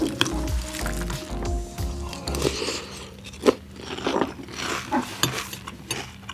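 Crunching and chewing of crunchy cereal with milk, with a few sharp bites and soft wet squishes, up close over a low hum.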